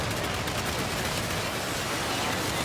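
A full volley of gunfire from a Terran Mosquito aircraft in Planetside 2, a dense continuous rattle of rapid shots filling the whole short stretch at steady loudness.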